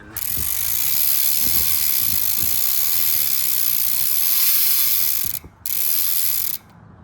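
A bicycle freewheel hub buzzes with a loud, rapid ratcheting whir as the wheel spins, cutting out briefly near the end before resuming, then stopping.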